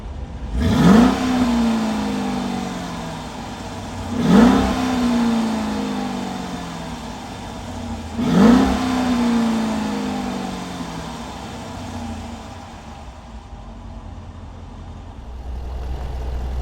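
A 2023 Dodge Durango R/T V8 engine revved three times at steady intervals, each rev a sharp rising roar that falls away, followed by a lower idle rumble.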